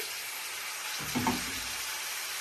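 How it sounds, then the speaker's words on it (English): Cooked peppers for a Sicilian peperonata drop back into a hot pan and break into a sudden sizzle about halfway through, frying on quietly and steadily afterward. "now what we're going to do is return all the peppers to the pan"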